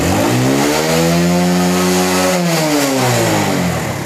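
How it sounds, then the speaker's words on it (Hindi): A motorcycle engine revs as the throttle is opened during a rectifier and headlight bulb check, a loud steady mid-pitched drone that rises in pitch toward the middle and then settles back, continuous throughout. "अब हम इसको एक्सीलेटर देते हैं"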